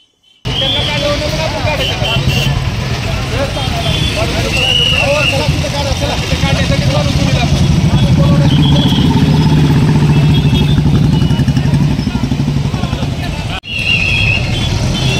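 Royal Enfield Bullet motorcycle with its silencer removed, a loud continuous engine roar close by throughout, with surrounding voices and street hubbub mixed in.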